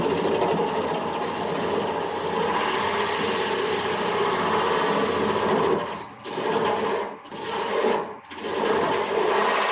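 A wood lathe spins as a gouge cuts a turned wooden scoop, giving a loud, continuous rasping scrape that cuts out in three brief dips near the end.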